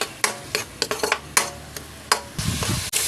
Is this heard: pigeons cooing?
no